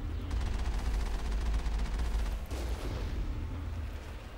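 Heavy turrets fire in Mass Effect, a dense rumbling stream of rapid shots with a deep low thud under it that eases off slightly near the end.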